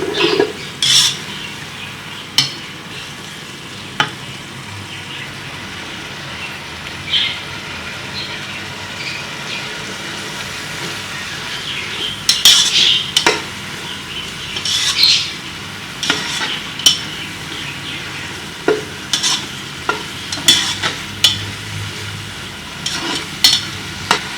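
Chana pulao frying in a pot while being stirred, with a soft sizzle beneath repeated metallic scrapes and clinks of a spoon against the pot, coming in irregular bursts up close.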